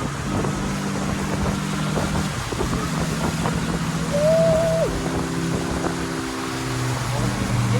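Pure Watercraft electric boat running at full throttle on open water, a steady low hum and rushing water and wind noise throughout, with people talking over it.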